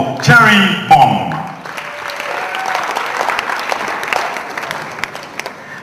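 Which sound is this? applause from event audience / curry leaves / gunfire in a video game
applause from event audience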